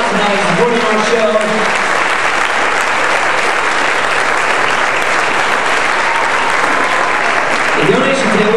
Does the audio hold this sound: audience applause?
yes